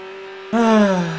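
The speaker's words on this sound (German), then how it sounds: "Ja, das ist der Motor." Engine revving of a car in the racing video game Need for Speed Hot Pursuit 2, a steady hum that suddenly jumps louder into a rising, harmonic-rich rev, then eases slightly downward, with no talk.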